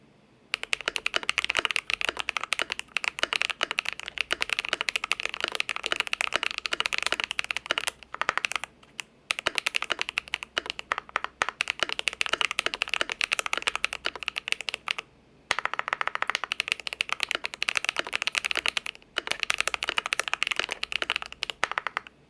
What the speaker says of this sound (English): we'll do another 30 seconds of the typing test